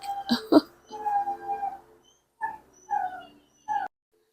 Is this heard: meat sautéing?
no